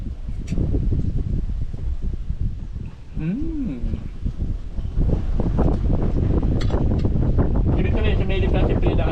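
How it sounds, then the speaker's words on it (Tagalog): Strong wind buffets an unprotected microphone outdoors, a loud continuous low rumble that persists throughout with gusty surges, while a voice talks intermittently underneath. "Yes po, napakalakas ng hangin dito."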